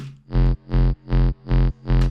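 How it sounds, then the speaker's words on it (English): Five sustained hard techno reverse bass synth notes in a steady rhythm, thick and gritty with heavy downsample distortion, loud and alone. "I add back some distortion with this downsample distortion that makes it extra special"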